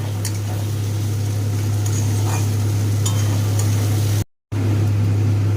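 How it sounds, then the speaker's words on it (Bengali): Chopped onions fry in oil with sugar, giving a steady, close sizzle over a constant low hum, with a brief dropout to silence near the end. "এবার পেঁয়াজটাকে দিয়ে ভালো করে লাল লাল করে ভেজে নেব।"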